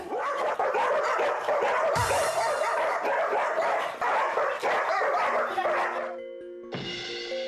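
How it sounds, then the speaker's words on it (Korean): A Pungsan dog barks fiercely at another dog indoors, loud rapid barks with overlapping yips and whines from large dogs, continuous and close throughout. "고미를 보자마자 맹렬히 짖는 복실이"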